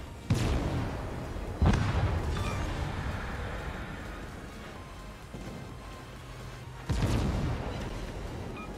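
Secondary gun batteries on a warship in World of Warships fire in heavy booming bursts, three strong blasts with rumbling decay over continuous low engine and sea noise.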